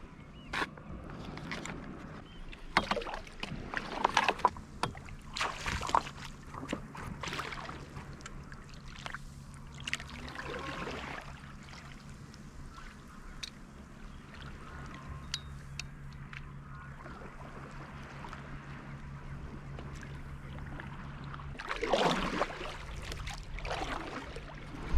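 A stand-up paddleboard is paddled across calm water by an island, soft repeated splashes and drips of the paddle strokes recurring irregularly over a quiet low background hum.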